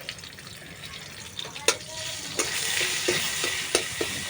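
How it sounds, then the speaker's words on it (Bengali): A ground paste of pointed gourd peel, salted, sizzles in a pan while being stirred, a steady frying hiss punctuated by a few sharp scrapes and clinks of the spoon, close and moderately loud, without speech. "ভালোভাবে নেড়ে নেব"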